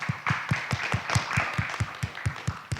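Steady rhythmic clapping from a small audience welcoming the first presenter at a talk on cultural antisemitism after 7 October 2023, a regular beat of fairly near hand claps heard alone.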